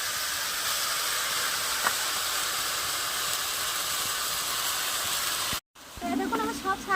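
Teora greens sizzle steadily in a hot kadai as they are stirred, a loud, even hiss of frying that runs unbroken, then cuts off abruptly before a brief, softer clatter returns.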